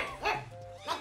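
A short dog bark effect, a couple of quick yips and whimpery barks in about a second, fairly quiet and clear.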